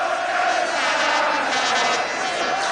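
A large football stadium crowd chanting together in unison, a steady loud roar of massed voices sustained throughout.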